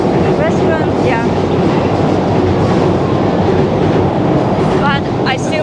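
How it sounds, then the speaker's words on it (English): A train rumbles loudly overhead at a station built on top of a Tokyo restaurant, a continuous roar with rhythmic wheel clatter and occasional squeals, dominating the scene from start to finish. "it's very loud here because the train station is on top of the restaurant"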